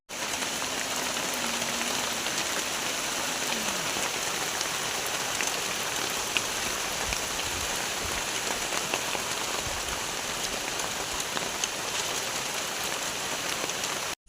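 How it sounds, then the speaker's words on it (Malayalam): Steady rain pours down continuously, a dense even hiss of drops on surfaces with no voices, lasting throughout. "ഇപ്പം മഴ പെയ്തുകൊണ്ടിരിക്കുക"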